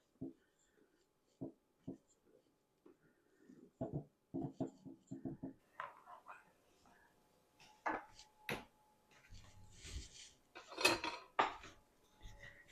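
A spoon works through a bowl of melted chocolate candy mixture, giving soft scraping and clinking taps that start sparse and quiet and become more frequent, with no voices.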